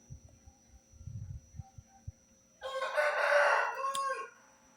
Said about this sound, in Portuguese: Gente, aqui tem um galo